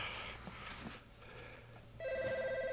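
A telephone rings in a room during shelf building, a quiet trilling ring that starts after a couple of seconds of faint background noise, with no voices.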